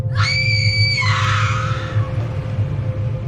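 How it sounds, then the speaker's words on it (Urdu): A loud, sustained scream rings out as a sound effect in a horror story about a haunted mansion, a single piercing cry that trails off over a low rumbling drone. "حویلی کے اندر سے اس طرح کی آواز سنائی تھی جیسے کوئی زور سے چیخا ہو"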